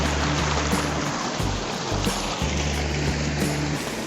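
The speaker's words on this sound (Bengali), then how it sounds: "আরেকটি ঝিরিপথ পেয়ে গেছি" Rushing water of a rocky stream on a steep hill trail near Keokradong, a constant loud broadband flow with a low hum underneath.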